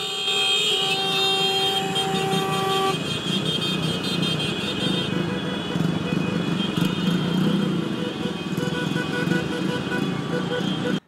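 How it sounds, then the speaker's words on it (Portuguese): Taxi funeral convoy nearing a cemetery, car horns blaring in sustained overlapping honks at first, then giving way to a dense roar of traffic and engines, loud and continuous. "Ao se aproximarem do cemitério, os colegas de trabalho e demais amigos realizaram um buzinaço."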